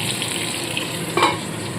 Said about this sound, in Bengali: এবার ঢাকা চাপা দিয়ে এই আলুগুলোকে ভেজে তুলে নেব